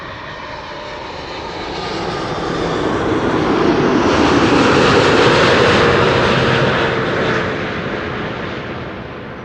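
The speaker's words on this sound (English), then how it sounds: "777-200 time. KLM flight 604 arriving from LAX." KLM Boeing 777-200 landing at Amsterdam Schiphol, a loud, steady jet roar that swells to a peak midway and then eases off as it passes, with no talk.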